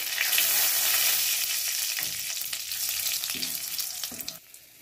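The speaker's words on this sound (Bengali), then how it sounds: "কাঁকড়া ভাজা তেলেই আমি কাঁকড়ার রেসিপিটা রান্না করে নেব। তার জন্য গোটা জিরে ফোড়ন দিয়ে দিলাম দুটো তেজপাতা, দুটো শুকনো লঙ্কা" Whole cumin, two bay leaves and two dried red chillies crackle in oil left from frying crab, a dense close sizzling hiss with several stirring knocks that fades out at the end.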